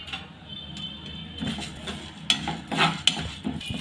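Cardamom pods and coriander seeds dry-roasting in a pan for a spice powder, with soft scraping and rattling as the seeds are stirred, plus a few sharper clinks of a spoon against the metal.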